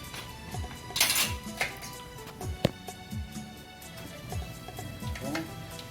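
Steel plates clink and clatter against one another in a home kitchen as they are greased with oil for making idiyappam, a few sharp metallic knocks and scrapes spread across the moment, close and fairly quiet.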